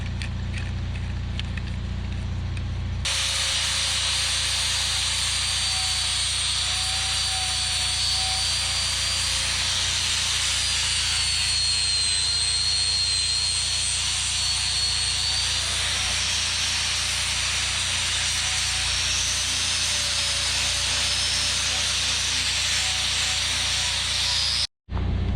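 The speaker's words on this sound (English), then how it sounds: "I'm gonna go ahead and take a flap wheel and clean up all these welds." An 80-grit flap wheel on an angle grinder cleaning up welds on a homemade steel brush-clearing attachment: a loud, steady high whine and rushing hiss after spin-up, pitch wavering slightly as it bears on the metal, then cutting off abruptly.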